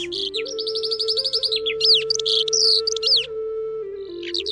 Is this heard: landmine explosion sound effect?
no